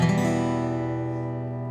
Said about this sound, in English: it's a minor chord, so it sounds like this.